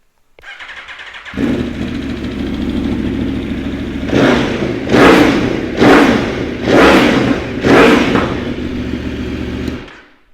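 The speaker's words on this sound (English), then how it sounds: "should we give it a start up? Give it a start up." A 2017 Aprilia Tuono V4 1100 motorcycle engine cranks and starts, settles into a steady idle, then revs hard four times in a row before cutting off.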